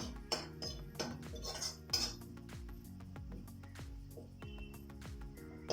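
A spoon stirs fish and taro root in a metal cooking pot, with repeated clinks and scrapes against the pot in an uneven rhythm, close and fairly quiet, with no voices.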